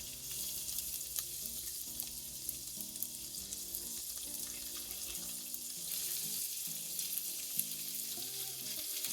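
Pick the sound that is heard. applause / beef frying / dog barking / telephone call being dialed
beef frying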